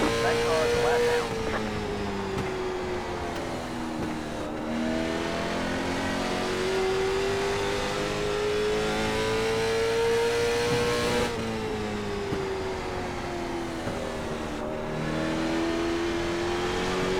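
Late model stock race car engines in the iRacing game drone continuously, with a steady throttle tone that rises and falls through shifts and corners and stays loud and close throughout.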